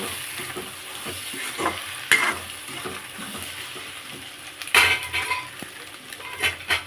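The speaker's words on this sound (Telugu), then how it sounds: "ఓన్లీ వన్ టమాటా వేసాను అంతే వేసి మిక్స్ చేయడమే" One tomato stirred into a frying curry in a pan, a spoon clinking and scraping against the metal in uneven strokes over a low sizzle, close by with no speech.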